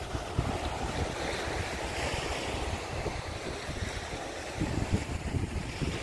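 Surf washes in steadily at a quiet far end of Puka Beach on Boracay, with wind buffeting the microphone in a continuous broadband roar and slightly stronger wave surges near the end.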